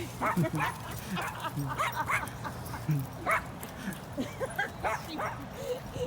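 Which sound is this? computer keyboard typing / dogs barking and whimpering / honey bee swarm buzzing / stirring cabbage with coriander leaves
dogs barking and whimpering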